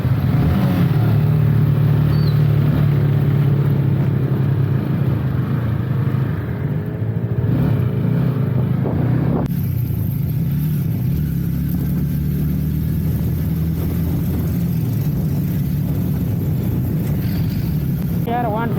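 A 150cc motorcycle engine drones steadily while riding on a road in eastern Nepal, loud and close with constant wind rush, its pitch shifting slightly as the ride goes on; no voices are heard.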